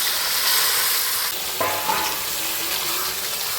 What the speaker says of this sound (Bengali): কত সুন্দর টমেটো আর পেঁয়াজটা তোমাদের দিদি ভাই ভালো করে এই যে ব্রাউনিশ কালার করে ভেজে নিবে